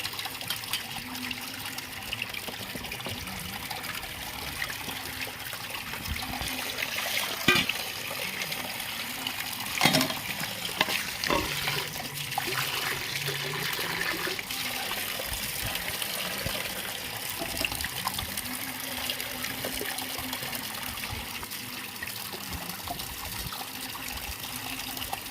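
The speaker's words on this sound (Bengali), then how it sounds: "কুলটা ভালো করে ধুয়ে নিচ্ছি।" Tap water runs steadily over jujube berries being washed by hand, a continuous splashing gush with occasional louder rattles and sloshes as the fruit is rinsed, close up and without talk.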